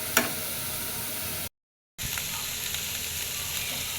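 Bitter gourd fries with salt in a pan, a continuous dense sizzle that cuts out to silence for about half a second before resuming, with faint stirring knocks and no talk.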